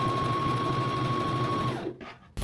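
A home sewing machine stitches the inseam of loose lounge pants with a fast, steady whirring hum for about two seconds, then stops, followed by a brief soft handling noise and a short click.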